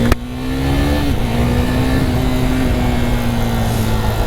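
A KTM RC 390 motorcycle accelerates in a loud, continuous engine roar whose pitch climbs smoothly, dips briefly at a shift, then climbs again, close to the recorder with no talking.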